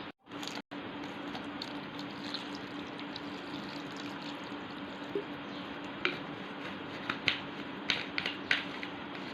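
Cold water poured onto bael fruit pulp in a container gives a steady, close pouring wash, with a few small drips and splashes toward the end and no talk.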